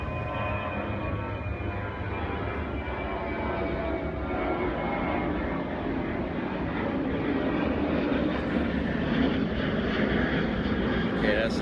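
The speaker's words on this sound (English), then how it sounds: "So we got another plane coming." An airplane flies low overhead along a flight path outdoors, a steady loud roar that swells slowly louder over about eleven seconds.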